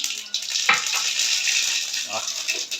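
Mustard seeds sizzling in hot frying oil while making a Jaffna-style egg curry: a loud, steady close hiss throughout, broken by a couple of brief low knocks.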